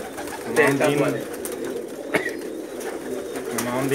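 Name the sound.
dub pigeons cooing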